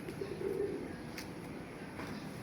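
Racing pigeons in a breeder's loft give soft, low cooing in the first second over quiet background noise. A few faint clicks follow.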